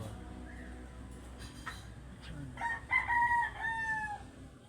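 Pet African birds calling nearby, a few short rising calls followed by louder, drawn-out crowing-like cries toward the end over a quiet background.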